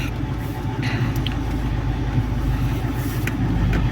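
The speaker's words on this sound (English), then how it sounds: "Let's see then at with the engine running, okay? With the engine accelerated." Alfa Romeo 159 with a 1.9 MultiJet diesel and a clogged DPF, held at raised revs around 3000 RPM, a steady close low rumble with faint higher clicks, no talk.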